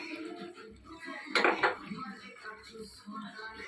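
Spoon scraping and clinking against a metal pot as chicken is stirred with chilli and coriander powder for a spicy curry, with a brief louder clatter burst amid steady soft kitchen noise.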